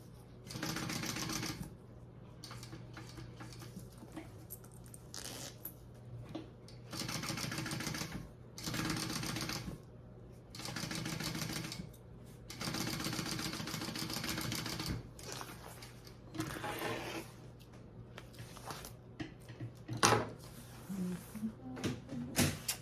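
A sewing machine stitches pieces onto a tote bag in several bursts of steady mechanical whirring separated by short pauses, close and fairly loud, with a steady low hum underneath.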